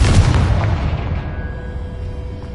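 In Hogwarts Legacy, a Confringo blasting curse explodes with a deep, loud boom that rumbles and slowly fades, standing alone with no talking.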